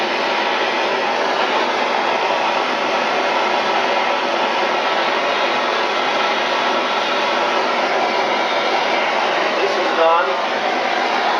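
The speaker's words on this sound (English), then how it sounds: "I'm heating up the valve body to the point where actually it's enough hot" Torch heating a brass shower valve body in a tub surround rough-in to melt the solder, a steady loud hissing roar of flame that holds constant throughout, with a brief faint knock near the end.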